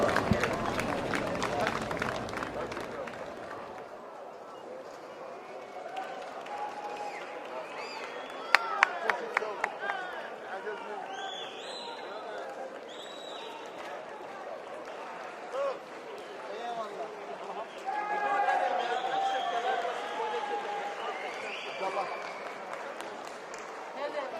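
Racecourse crowd at a horse-racing club applauding the winning horse after the race: scattered clapping and cheering from a distant crowd, with a burst of sharper claps midway and faint voices mixed in.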